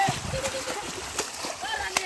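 Water splashes and sloshes close by as someone swims in a canal during fishing, with irregular splashes under people talking.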